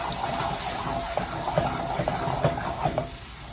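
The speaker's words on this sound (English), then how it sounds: "I'm gonna add about 2 tablespoons of water, and that's just gonna help the caramel sauce come together." A small splash of water hits hot caramel sauce cooking with apples in a pan, giving a quiet bubbling sizzle with a few soft clicks and stirring sounds.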